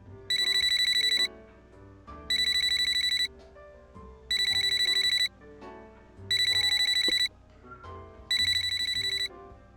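In the video game Yakuza, a phone rings in five loud, evenly spaced electronic bursts separated by short gaps, with faint game sounds underneath.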